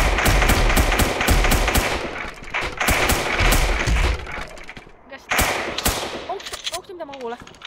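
Rapid bursts of heavy automatic minigun fire in a video game rattle in long continuous runs, loud and close, with brief pauses and a voice shouting over it.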